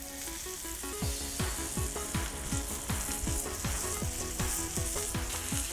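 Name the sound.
ribeye steak sizzling with butter on Cuisinart 360 griddle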